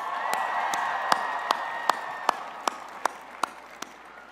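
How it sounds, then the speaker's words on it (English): Graduates and guests at a 2018 spring commencement ceremony applaud, a soft crowd wash pierced by sharp, evenly spaced claps in a steady rhythm, with a thin sustained tone running through the first half. "give yourselves a round of applause"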